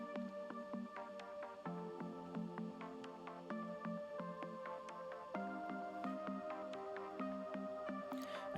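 A quiet electronic track from a single, with soft sustained synth pads under plucky, dripping melodic notes and a steady pulse, low in level and alone.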